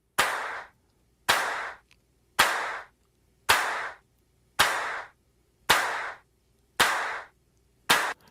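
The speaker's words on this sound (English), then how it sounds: "Layered claps." Layered hand claps from a multitrack pop song recording, eight crisp, loud claps spaced evenly about one second apart, each with a short decaying tail and silence between.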